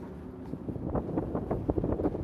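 Steady wind buffeting the microphone, a low rumbling roar with gusty surges and no voices.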